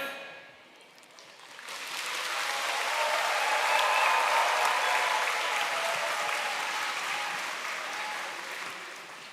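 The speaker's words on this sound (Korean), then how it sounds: "다시 한번 큰 박수로 우리 김재민 고등부에게 격려의 박수 부탁드리겠습니다" An audience at a church youth speech event claps, the applause swelling within seconds into a steady, dense wash of hands that holds and slowly fades toward the end.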